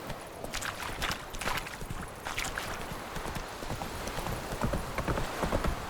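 Roach, Geralt's horse in The Witcher 3, gallops with a quick, rhythmic clip-clop of hooves on the ground, close and steady and without speech.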